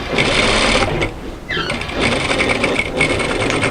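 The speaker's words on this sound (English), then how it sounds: "I'm turning my garment inside out and sewing a second row of stitches parallel to the first" A sewing machine runs a second row of stitches on a knit sweater, loud and close, with a fast steady whir that pauses briefly and then resumes.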